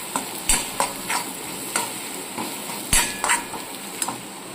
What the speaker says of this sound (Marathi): त्याच्यामध्ये आपण खोबरे लसणाचं वाटण ह्याच्यामध्ये टाकणार आहोत, चांगलं असं भाजून घेणार आहे